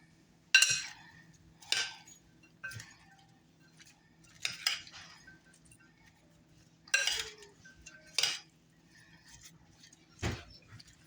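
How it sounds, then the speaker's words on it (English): A utensil stirring a homemade Korean-style dish containing brown sugar, with a series of separate metallic clinks and scrapes against the bowl at uneven intervals and quiet gaps between them. "And I'm going to give this a mix and see what it tastes like."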